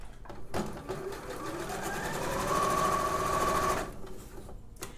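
A sewing machine runs a continuous top-stitching seam on dress fabric, its rapid mechanical needle chatter building steadily in speed and loudness before stopping abruptly, close up with no talking.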